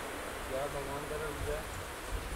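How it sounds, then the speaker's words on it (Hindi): Steady monsoon rain falling, a continuous soft hiss of drops with faint frog chirps in the background. "बारिश हो रही है"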